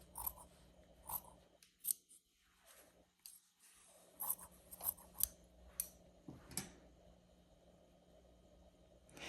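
Scissors snip through quilt binding fabric for a Kimberbell Pumpkins & Potions machine-embroidered quilt, a series of quiet, close cuts in short bursts with pauses between.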